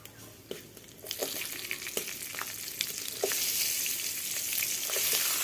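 Cumin, dried chilli, bay leaf and green chilli sizzle in hot ghee, crackling with scattered pops and spoon clicks. The frying swells louder into a dense hiss in the second half.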